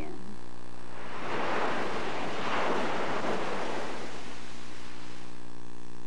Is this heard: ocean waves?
yes